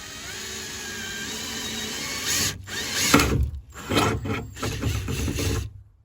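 A power drill whines steadily, then bites and bogs down in bursts as it cuts through the metal of a 2002-2007 Jeep Liberty car door, loud and close, with brief stops and restarts.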